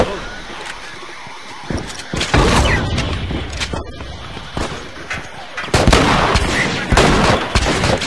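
A double-barrel shotgun booms in The Last of Us multiplayer, one of several loud blasts that stand out against busy in-game action noise.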